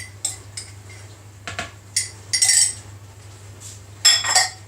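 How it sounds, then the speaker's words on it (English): A spoon stirring a chocolate brownie mixture with egg yolks in a bowl, giving several bright metallic scrapes and clinks in short bursts against a low hum, close and without speech. "give that a bit of a stir"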